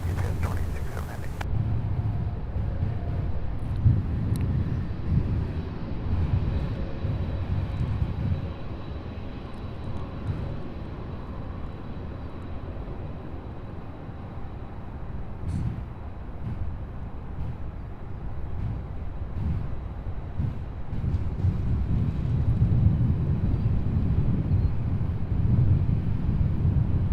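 A UPS heavy freighter jet taxis at SDF airport, its engines rumbling in a steady roar with gusts of wind buffeting the microphone, while voices talk over the noise.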